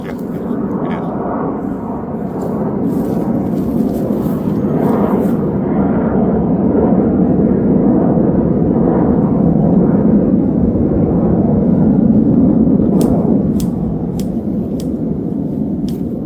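An aircraft passes overhead with a steady, loud broadband roar that swells and slowly fades over a garden, with faint bird chirps appearing near the end.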